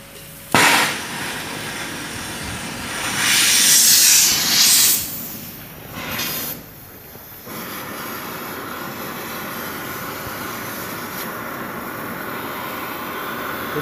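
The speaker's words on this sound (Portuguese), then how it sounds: "Esse maçarico aqui, ele só não derrete diamante, ele derrete aço, qualquer coisa" A blowtorch hisses and roars close by while burning ore, starting with a sharp ignition burst, surging louder for a few seconds, then settling into a steady, rushing hiss with no speech.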